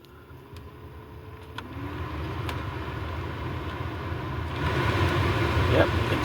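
The blower motor of a Nissan Micra K12 spinning up as the fan speed rises, a steady whirring hum that grows louder over several seconds, with a few faint clicks early on.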